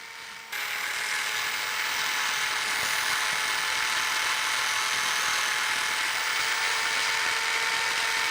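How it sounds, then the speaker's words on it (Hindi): Electric drill running while mounting CCTV cameras, a steady high whine that starts abruptly after a half second of quieter noise and continues unbroken and loud to the end. "ड्रिल कर रहा हूँ।"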